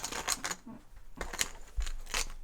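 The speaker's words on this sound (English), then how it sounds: "And then all the tokens we've used go back in the bag." Board game tokens are dropped and shuffled back into a bag, giving several short, close clicking and clattering bursts separated by brief pauses, fairly quiet overall.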